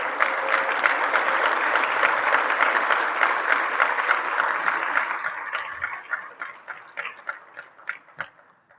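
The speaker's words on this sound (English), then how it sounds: "Let's give them a round of applause." Conference audience applauding hotel staff, a dense sustained burst of clapping that thins toward the end into scattered individual claps.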